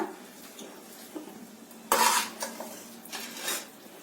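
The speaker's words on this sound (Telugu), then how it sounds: "హల్వా రెడీ అయిపోయింది సర్వింగ్ బౌల్లోకి తీసుకుంటున్నాను" Bread halwa scooped from a pan into a serving bowl, a few close metallic spoon scrapes and clinks against cookware with one louder scrape in the middle.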